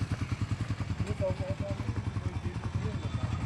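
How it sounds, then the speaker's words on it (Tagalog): A motorcycle engine chugs with a steady, close, pulsing beat while voices talk over it. "Ito motor ni Frank."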